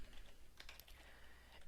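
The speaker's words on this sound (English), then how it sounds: "So if I begin typing first name" Keys click faintly on a computer keyboard in a few quiet, scattered taps over a low background hiss.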